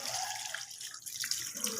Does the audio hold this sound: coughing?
no